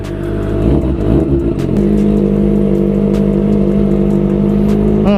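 Kawasaki ZX25R motorcycle engine idling and revving up loudly nearby, a steady throaty drone with a rising rev burst near the start, heard alone without talk.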